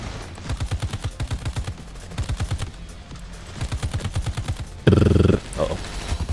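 Bursts of rapid automatic gunfire from the video game Ravenfield, several short volleys of regular staccato shots, with a louder, harsher blast near the end.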